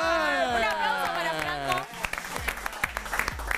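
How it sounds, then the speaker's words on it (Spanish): A studio audience in a fashion-panel TV show bursts into applause at the end of a musical sting, with scattered, uneven claps that start to thin out. "¡Vaya! Un aplauso para"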